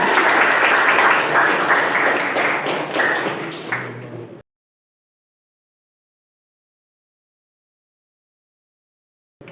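Students in a classroom during a teaching practice session applaud together: a dense burst of clapping for about four seconds that fades out, followed by silence.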